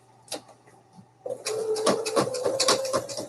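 A sewing machine stitches a pocket onto a Christmas advent calendar, starting after a quiet pause and then running in a steady, close mechanical whir with rapid ticking for the last two seconds, no one talking.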